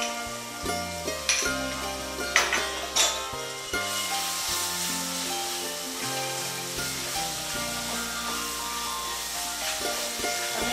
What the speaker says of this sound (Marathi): आता हे चांगलं परतून घ्यायचं.